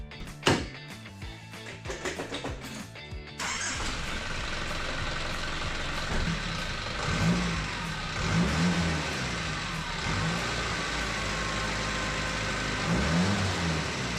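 An Isuzu 4JB1 2.8L diesel with a newly replaced fuel injection pump drives off, a faint clatter giving way to a steady engine drone that swells slightly under acceleration, with no talk.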